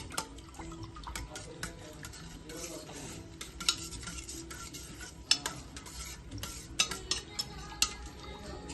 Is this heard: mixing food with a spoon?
yes